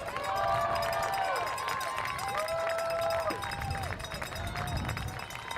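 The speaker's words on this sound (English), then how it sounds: "Yes, keep cheering them on, folks." Spectators at a HOKA Festival of Miles race finish keep up a steady roar of crowd cheering and clapping as a big group of runners sprints in, the noise loud and continuous, with a commentator's voice over it.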